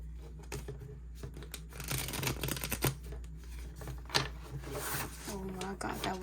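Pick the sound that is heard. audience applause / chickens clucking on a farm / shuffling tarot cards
shuffling tarot cards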